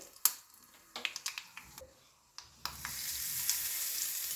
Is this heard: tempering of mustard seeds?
yes